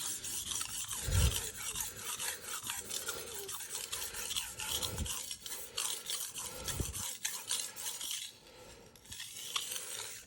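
An SG2 steel knife is drawn back and forth across a King 300 water stone, giving steady rasping, scraping strokes close up and fairly loud, without any talk.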